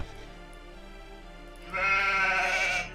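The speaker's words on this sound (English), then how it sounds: "we managed to save one of our sheep" A single loud sheep bleat from Age of Empires 2 HD rings out after a quieter stretch of low ambient sound, a game-style sheep call lasting about a second.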